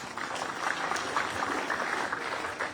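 Audience clapping at a lecture hall talk, a soft, steady wash of applause heard from some distance, fairly faint and continuous.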